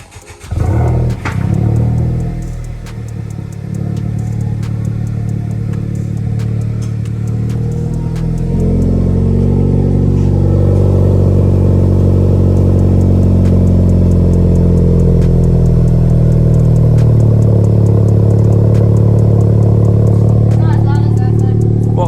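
A Honda Civic Type R fitted with a GReddy DD-R exhaust, still catted, starts up and settles into a loud, steady idle with a deep exhaust drone, close by, with brief voices at the start.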